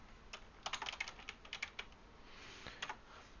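A short run of quick key presses on a computer keyboard while entering a command, light clicky taps in uneven clusters with brief pauses, quiet and close with no talking.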